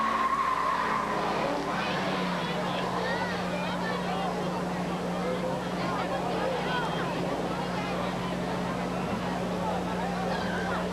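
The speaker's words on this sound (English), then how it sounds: "Sliding it sideways is the number 20 of Jason Matten." Race car at a short-track speedway in 2000 sliding sideways off the fourth corner, a loud continuous roar of engine and tire noise filling the whole stretch, with a race announcer talking over it.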